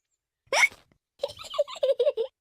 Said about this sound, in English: Oh dear, George's hiccups are spoiling the game.